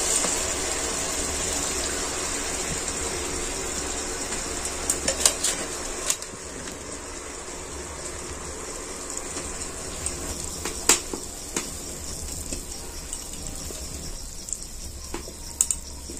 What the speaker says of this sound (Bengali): এবার একটু এইটাকে আমি নেড়ে ফুটিয়ে নিচ্ছি।